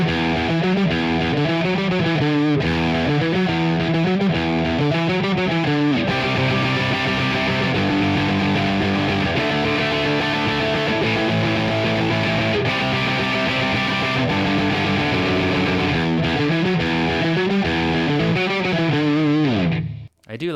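Fender Acoustasonic Jazzmaster played through an Amplitube distortion amp simulation with a Mesa Boogie-style tone, loud sustained overdriven chords and riffs that run continuously for about twenty seconds before cutting off abruptly.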